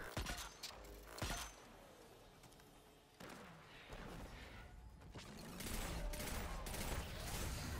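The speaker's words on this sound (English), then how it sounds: "I did critical headshots with the Arbalest linear fusion rifle" Arbalest linear fusion rifle shots ring out during a Destiny 2 Nightfall fight at the Scarlet Keep, with several sharp bursts standing over dense, continuous game combat noise and mechanical effects.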